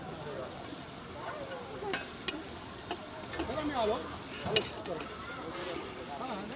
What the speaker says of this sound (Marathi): आपला गॅस मी थोडंसं कमी करून घेते म्हणजे मसाले चांगले परतील